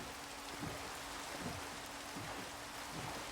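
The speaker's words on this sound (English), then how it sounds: "and then it just starts raining" Steady rain pours down in the video game Minecraft, a dense, even hiss of falling water with soft low thumps scattered through it and no voices.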